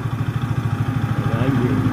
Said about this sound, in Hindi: और ये है विशाल की डोमिना 250